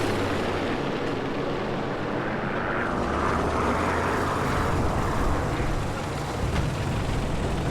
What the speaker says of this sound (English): I hear more aircrafts